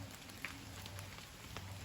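Steady rain falling in a forest on a jungle trek, a faint continuous hiss with scattered soft drop impacts, no voices.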